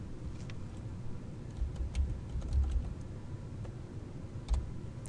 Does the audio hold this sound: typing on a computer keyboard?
yes